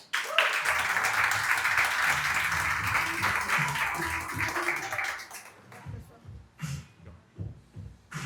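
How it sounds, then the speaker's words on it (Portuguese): An audience at an agribusiness event applauds to welcome a speaker onstage, a dense steady round of clapping for about five seconds that stops abruptly, followed by a few scattered claps and a nearby voice speaking. "recebam com muito carinho, muitas palmas"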